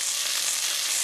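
Beef steak pan-frying after being flipped, a loud, steady, dense sizzle filling the moment without pause.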